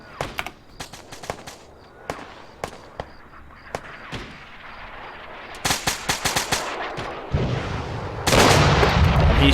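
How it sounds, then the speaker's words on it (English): Mortar and small-arms fire in an Arma 3 battle with the JSRS Dragonfyre sound mod: a steady run of sharp, loud cracks and booms at irregular intervals, building into dense overlapping bursts and a sustained roar near the end. "Oh man, the mortars are really firing it off."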